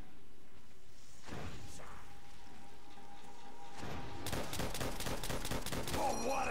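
Rapid gunfire bursts from a Call of Duty Zombies match on the Verruckt map, starting quietly then turning into a loud, dense volley of repeated shots over the last couple of seconds.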